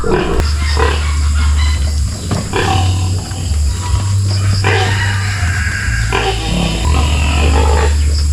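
Pigs on a farm, a large boar and a breeding sow, grunt and squeal loudly and close, with continuous rough snorting and oinking throughout and a hint of voices in the background.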